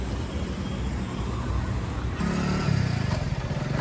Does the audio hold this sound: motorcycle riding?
yes